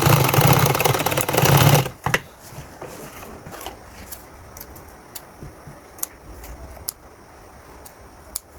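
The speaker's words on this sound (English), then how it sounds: "Then you sew through it." Sewing machine stitching fabric for a pleated Bubu top: a loud, dense mechanical run for about two seconds stops abruptly, followed by quieter handling noise and scattered sharp clicks.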